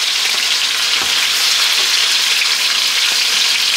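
Pork belly fries in rendered bacon grease (lard) in a pan alongside pork chops, giving a loud, steady, close sizzle that crackles on without pause and with no talking.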